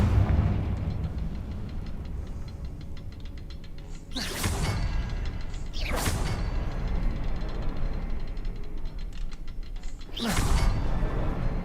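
Confringo spell blasts in Hogwarts Legacy: three loud, sudden explosive bursts a couple of seconds apart, each with a sharp crack and a rumbling tail over a steady low game background.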